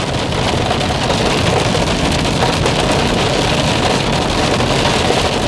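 Hail pelting a car driving through a storm in California, a dense, loud, continuous drumming roar on the body and roof with road noise underneath and no pauses.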